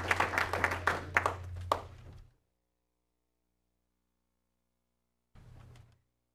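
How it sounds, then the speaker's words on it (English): An audience at a school board meeting claps for student speakers, a burst of applause with a few sharp claps lasting about two seconds over a low hum, then silence before a brief faint return of the hum and scattered noise. "let's give a round of applause for all of our student speakers"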